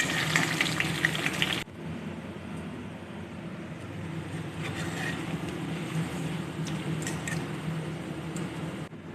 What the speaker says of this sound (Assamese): এই আলু পিচকেইটাও ফ্ৰাই কৰি লৈছোঁ